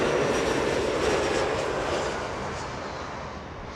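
SkyWest Embraer jet landing at Los Angeles International Airport, a loud broadband roar of engines and rushing air that stays strong, then fades slightly as the aircraft slows on the runway.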